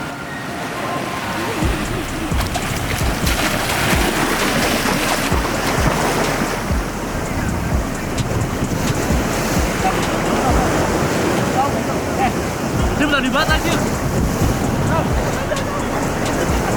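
Sea waves at a Bali beach roar continuously, with wind buffeting the microphone and young people chatting over the surf.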